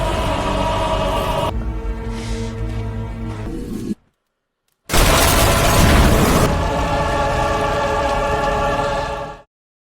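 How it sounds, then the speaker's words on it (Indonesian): A car blows up after being struck by a fireball in a film scene, a loud roaring blast of noisy rumble that cuts out briefly, then surges back as a sustained fiery roar before ending abruptly. "Bola api menghantam mobil itu sampai meledak"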